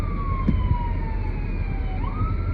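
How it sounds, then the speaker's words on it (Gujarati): An ambulance siren wails in long, slowly falling tones from a short distance, heard over constant road traffic rumble, without any voices. "આપણે બહાર ના નીકળે ને એમ્બ્યુલન્સ ના નીકળે એવું તો બને નહીં"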